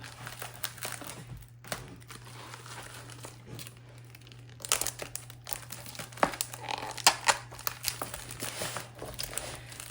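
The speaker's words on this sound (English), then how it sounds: "I'm gonna get a bigger piece of tape." Tape and packing material handled while wrapping a crystal shop order, with close crinkling and crumpling of plastic and paper, scattered rustles, and a busier stretch of louder crackles and tearing toward the end over a low steady hum.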